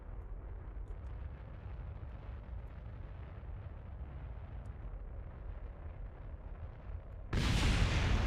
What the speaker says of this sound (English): Oh, Jesus, a second explosion!